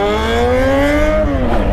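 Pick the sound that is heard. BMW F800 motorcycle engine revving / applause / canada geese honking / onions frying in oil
BMW F800 motorcycle engine revving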